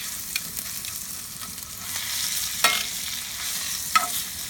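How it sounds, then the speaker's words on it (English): Steak with garlic sizzles hard in a hot skillet, a dense continuous close frying hiss with a few sharp spatters and pops and no voices. "That fat will actually render down when it's on the edges of the skillet"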